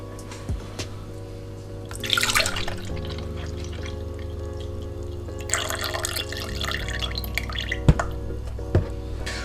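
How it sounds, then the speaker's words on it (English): Oat milk is poured from a carton into a container in two short gurgling bursts close by, with a few drips and light clunks between pours. "you want to add your oat milk, which I'm going to be adding around 150 milliliters of oat milk,"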